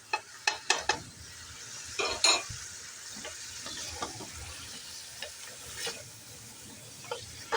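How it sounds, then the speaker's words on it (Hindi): Garlic and beef fry in a pot for nalli nihari: a soft, steady sizzle with sharp spoon clacks against the metal, grouped early on and then more scattered. "लहसुन और बीफ को हमने अच्छी तरह से भून लिया है"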